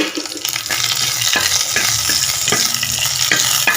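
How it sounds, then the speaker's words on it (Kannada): Mustard seeds and curry leaves sizzle loudly in hot tempering oil for a North Karnataka-style ridge gourd chutney, a constant crackling fry punctuated by sharp pops and stirring scrapes, close up with no talk. "ಅದಕ್ಕೆ ನಾನು ಸ್ವಲ್ಪ ಸಾಸಿವೆ ಮತ್ತು ಕರಿಬೇವು ಹಾಕ್ಕೊತಾ ಇದ್ದೀನಿ"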